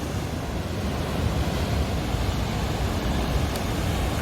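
Ocean waves wash onto the shore at Porto in a steady, dense roar of surf, mixed with wind buffeting the microphone, continuous and fairly loud without speech.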